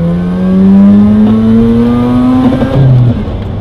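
A Mazda RX8 fitted with performance motor mounts accelerates, its engine note rising smoothly and loudly up close for about three seconds before easing off, with no talking.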